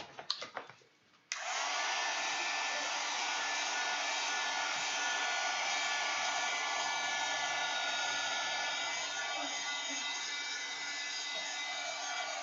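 A hair dryer dries a mixed-media art journal page. After a brief rustle it switches on abruptly and blows a loud, steady, even roar to the end, with no talk.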